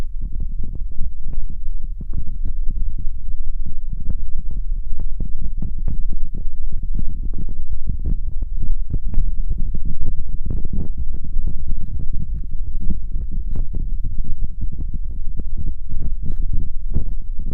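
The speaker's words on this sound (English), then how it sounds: "I'm convinced that that's the sound of my joints creaking." Tiny finger and tendon movements while playing an ocarina, picked up by a contact microphone, give a continuous low rumbling texture dotted with dense, irregular clicks and creaks, steady and close throughout.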